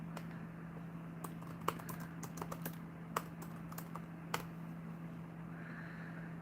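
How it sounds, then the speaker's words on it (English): Fingers type on a computer keyboard in a quiet room, producing scattered clicks and quick bursts of keystrokes with a steady low hum underneath. "I need both of my hands to type"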